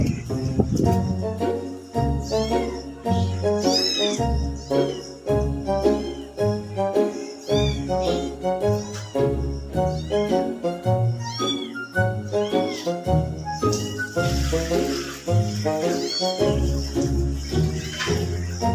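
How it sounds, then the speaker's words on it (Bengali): A mother cat meows again and again while guiding her kitten along a path, the calls close and clear across a steady, busy background. "সমানে গাইড করে যাচ্ছে ম্যাও ম্যাও ম্যাও ম্যাও করে"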